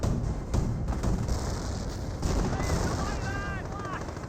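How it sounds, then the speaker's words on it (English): Artillery shells and gunfire from a 25-pounder barrage in the Company of Heroes game boom and crackle in a dense, continuous wash of distant explosions, with a commentator talking over the battle. "a 25-pounder going to start barraging the space, which will be very handy"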